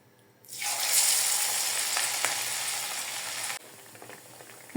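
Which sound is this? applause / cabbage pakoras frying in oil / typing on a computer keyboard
cabbage pakoras frying in oil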